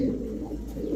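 A white short-faced pigeon with a small beak cooing close by, a low soft throaty coo filling the brief moment alone.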